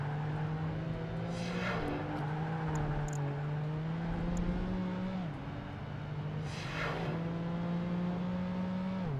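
Grand Touring race car in Project Gotham Racing 2, its engine revving steadily up and down through gear changes, loud and close with no talk.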